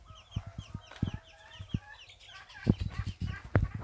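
Young chicks and hens, including Japanese bantams, clucking and peeping close by in a farmyard, a run of short, soft clucks with higher chick cheeps over quiet background.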